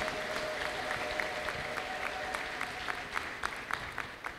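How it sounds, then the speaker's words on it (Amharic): A church congregation breaks into scattered applause with bright, high ululation mixed in, rising toward the end and heard from a moderate distance. "እስቲ ለጌታ ከፍ ያለ እልልታና ክብር።"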